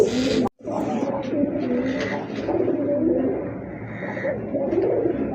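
Several pigeons coo continuously at a pigeon market stall selling colourful local and foreign breeds, a dense overlapping chorus of low burbling calls with a brief gap near the start and no talk.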